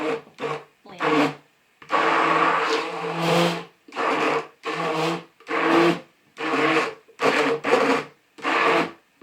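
A blender mixes kaolin clay into African black soap in about ten short, evenly spaced bursts, each a loud whirring grind separated by brief silences.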